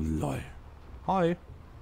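A cat in the video game Fallout 4 gives one short, wavering meow, fairly close and clear, with a person talking just before it.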